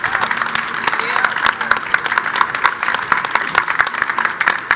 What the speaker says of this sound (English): let's give a round of applause to our guests.